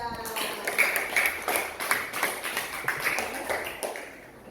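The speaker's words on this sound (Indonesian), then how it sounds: "Tepuk tangan untuk kelompok 2." A classroom of students claps for a presenting group after a lesson, a quick burst of light, scattered hand claps that swells and then tapers off at the end.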